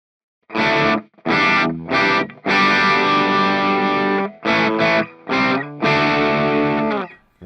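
An electric guitar plays through an amp modeler with cabinet simulation, giving distorted chords in short choppy bursts and longer sustained strums with a boxy tone, played alone.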